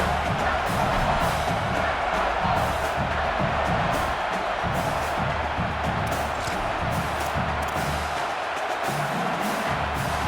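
A home crowd at a Tennessee football game roars in a steady, dense wash of cheering and shouting that holds for the whole stretch, broad and distant with no single voice standing out.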